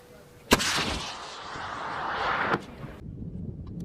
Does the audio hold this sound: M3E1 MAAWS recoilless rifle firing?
yes